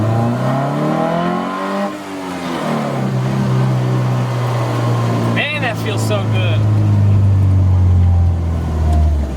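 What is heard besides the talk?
Porsche 914 driving and accelerating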